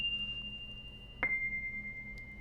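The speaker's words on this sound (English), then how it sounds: "a bell sound, and without the effects on it, it sounds like this" A synthesized bell tone from a MIDI melody, dry with no effects, rings as a sustained pure note. It then steps down to a second lower, steady note after a brief soft strike, quiet and alone.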